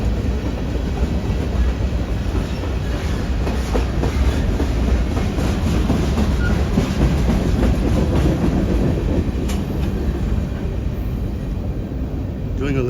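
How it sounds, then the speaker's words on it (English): A train rolls past on a downtown San Antonio street walk, a steady loud rumble with rhythmic clickety-clack of railcars that holds for the whole stretch, with faint street noise around it. "Doing a little bit of train watching there"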